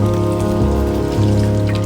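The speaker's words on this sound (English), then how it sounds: "Crispy Tandoori Chapli Kebab rolls. They are getting deep fried." Tandoori chapli kebab rolls deep frying in hot oil at 350 degrees, a loud, dense, continuous crackle and hiss like rain on a surface, close and steady with no voices.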